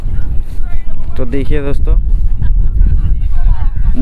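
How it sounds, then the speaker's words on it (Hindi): Wind buffets a microphone outdoors beneath a tree in open ground, a steady loud rumble running throughout under a man's speech. "यहाँ पे काफ़ी हवा चलता है"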